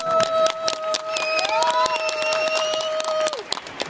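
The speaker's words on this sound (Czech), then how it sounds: "Takže můžeme dodat jenom jeden velký potlesk" An audience at an aerobics performance breaks into loud, sustained applause and cheering. The clapping is dense and close, with a tone or whistle rising above it before fading.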